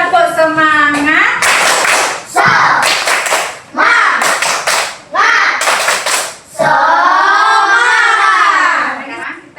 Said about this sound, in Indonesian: Yuk kita tepuk semangat dulu yuk